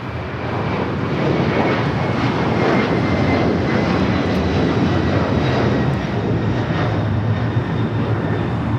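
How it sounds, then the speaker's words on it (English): Boeing 767-300ER jet taking off from LAX, a loud sustained engine roar holding steady throughout, no speech. "That is the Tom Airlines 2479 taking off to Lima on the 767-300ER"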